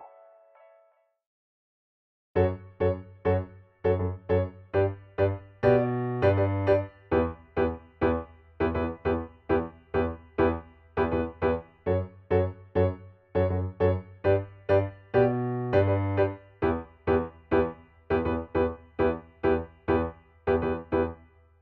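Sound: piano playing main riff of a song

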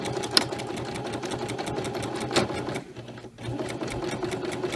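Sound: sewing machine stitching fabric

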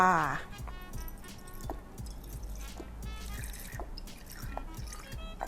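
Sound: pouring fish sauce into chili dressing

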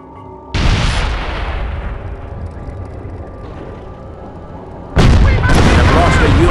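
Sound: gunfire and explosions in Company of Heroes video game

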